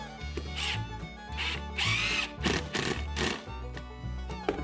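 A power drill drives screws through a hinge on a wooden Dutch door for a henhouse, making several short whirring bursts with brief pauses between them, close and moderately loud.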